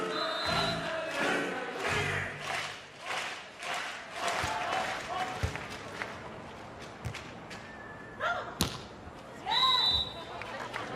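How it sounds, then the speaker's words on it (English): Home crowd at a beach volleyball match in Ostrava, Czech Republic, cheering in swelling waves with rhythmic clapping, whistles and sharp ball strikes, loud and close, rising again near the end. "Here in the Czech Republic, nothing but support for the home team. Out it goes. Now they'll cheer."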